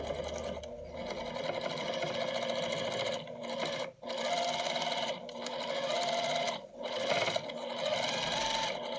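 A sewing machine stitches in the ditch along the seams of a patchwork basket, running in a steady, continuous whir close by, with a few brief pauses between bursts of stitching.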